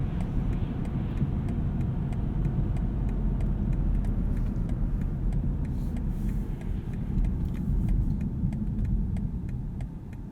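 A 2020 BMW 840i xDrive Gran Coupe being driven around corners, its engine and road noise a steady, loud low rumble throughout with no talking.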